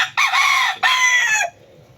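A rooster crows loudly and close by, a strained two-part call with a short break in the middle, ending abruptly into quiet.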